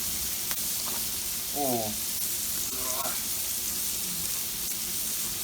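A New York strip steak sizzles steadily on a Blackstone griddle, the frying hiss constant and close, with a brief spoken exclamation partway through.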